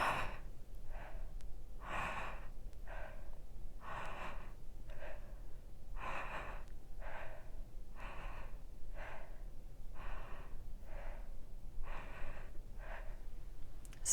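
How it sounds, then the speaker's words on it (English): Steady rhythmic breathwork breathing, each single one-part inhale followed by a passive exhale, repeated about a dozen times in even cycles of roughly a second, close and clear over a low constant hiss. "you're going to take a single one-part inhale followed by a passive exhale"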